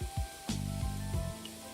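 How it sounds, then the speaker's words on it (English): Butter spray hisses in short, quick bursts into a pot of vegetables, followed by a soft sizzle as a chicken noodle soup is started, close and fairly quiet. "we're just going to spray some butter in here"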